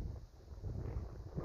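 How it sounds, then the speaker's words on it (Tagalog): Gusting outdoor wind in the Philippines on a blustery, chilly day after a storm, buffeting a microphone with a low, uneven rumble that swells and eases. "Kasi nga, mahangin."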